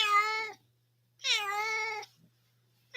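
A cat nicknamed Great Kitty, back in an office, lets out two loud, drawn-out meows, close by, with a short silent pause between them.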